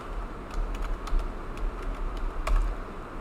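Fingers typing a command on a computer keyboard, a rapid run of light plastic key clicks in uneven bursts over a low steady hum, close and moderately loud with no talk.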